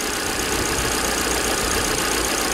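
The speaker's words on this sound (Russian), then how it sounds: "Работа двигателя на холостом ходу." Idling 2013 Peugeot 408 with a 1.6-litre engine, a steady close mechanical hum with light ticking running evenly throughout, no voices.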